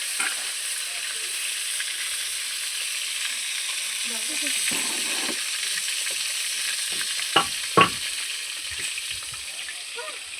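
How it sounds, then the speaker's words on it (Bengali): Koi fish frying in a pan, a soft steady sizzle in the background with a few stirring scrapes and two sharper clinks near the end. "মাছগুলো একটু ভেজে নেবে সব"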